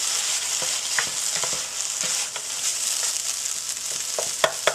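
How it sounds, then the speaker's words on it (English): Tomato paste being stirred into a sizzling tomato sauce for moussaka, with steady frying hiss under repeated soft scrapes of the spoon through the pan. "I'm going to put in about 2 tablespoons of tomato paste. I'm going to mix that all in there."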